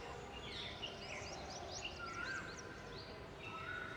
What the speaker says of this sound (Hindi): जिस टाइप के चिड़ियों की आवाज़ आती है ना